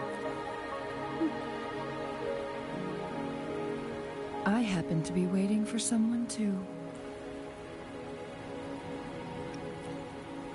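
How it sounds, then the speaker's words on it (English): Steady rain patters and hisses throughout in Genshin Impact, with game-style dialogue spoken over it partway through. "Don't worry, the rain won't last much longer."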